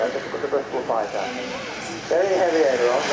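Bristol Fighter biplane with a 270-horsepower Rolls-Royce Falcon engine flying at an air show, a steady droning engine with a wavering pitch, moderately distant and continuous under someone talking.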